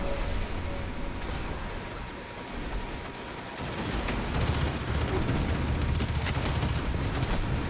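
Gunfire in the Destiny 2 video game, dense bursts of rapid shots and booms that build and grow louder in the second half, heard without talk.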